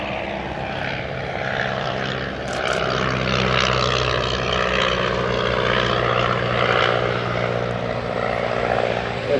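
A Hermes Moth biplane goes around at an airshow, its propeller engine droning loudly and steadily as it passes near, with a faint voice underneath.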